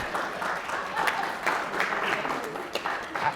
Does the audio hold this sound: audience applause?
yes